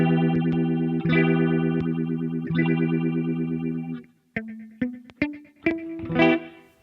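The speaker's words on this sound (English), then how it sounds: "Same phaser." Behringer Bi-Phase phaser effect sweeping over sustained guitar chords, first three long strummed chords then a run of shorter plucked notes, loud and close with no talk.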